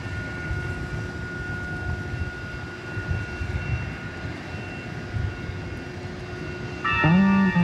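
A plane departs into the night at DFW International Airport, its engines a steady broadband roar that holds throughout, with a louder tonal whine swelling near the end.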